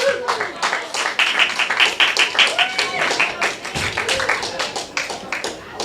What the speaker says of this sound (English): Carlos, everybody. Clap it up for him.